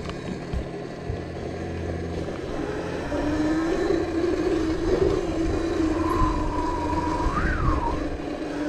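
A Burromax TT1600R electric scooter with a 1600 watt mid drive riding along a trail, its motor whine rising and holding steady under wind and rolling noise, with no talking.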